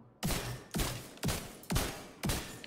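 Five loud, evenly spaced gunshots from a Scorpion weapon in a video game ring out in a quick series, each a sharp blast with a short echoing tail.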